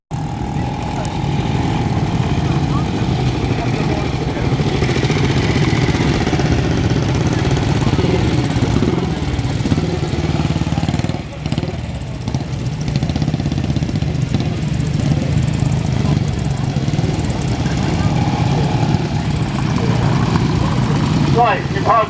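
Motorcycle engines run steadily at an arena event during the 50th Hooe's Old Motor Club concours d'elegance, a loud continuous rumble with some revving, while people talk over it throughout.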